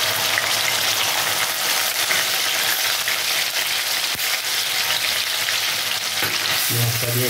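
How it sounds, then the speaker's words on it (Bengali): Onion paste with kalo jeera frying in hot oil for a salted fish and taro curry, a dense, close, continuous sizzle with steady scraping as it is stirred, a brief clink near the end, no voices. "পেঁয়াজটা দিয়ে একটু ভালো করে কষিয়ে নেব"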